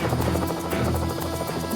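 Rescue helicopter in a coastguard operation at sea, a dense continuous rotor and engine roar with a steady thumping pulse, loud and close throughout the short stretch.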